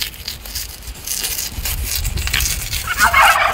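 Turkeys gobble on a farm among faint rustling and scratching. A sharp, rapid gobbling call rings out loud and close near the end.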